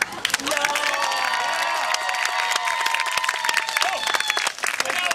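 An audience at a celebration of life claps, a dense steady round of applause with some cheering mixed in, loud and close for about five seconds.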